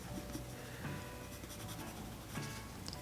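A pencil sketching a tiger on paper, faint continuous scratchy strokes with soft short scrapes, close but quiet under a noisy background.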